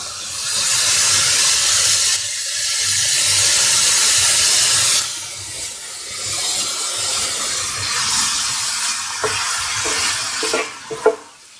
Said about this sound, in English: And this shaved steak is going to cook quicker.